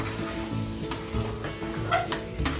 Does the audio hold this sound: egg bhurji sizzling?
yes